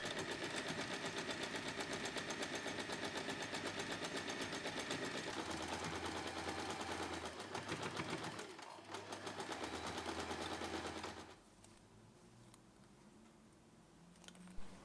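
A sewing machine stitches along both sides of a fabric wallet lining, a faint, steady mechanical whir with rapid ticking that runs for about eleven seconds, then cuts off, leaving quiet room tone.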